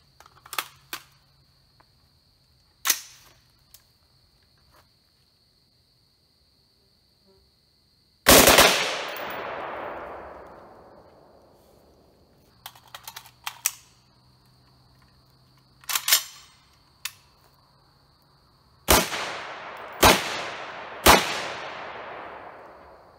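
Rifle shots from a 5.56 Ruger Mini 30 firing Winchester green tip rounds at steel exterior doors outdoors, several loud sharp cracks spread apart with long decaying echoes, faint insect chirping between them and no talking.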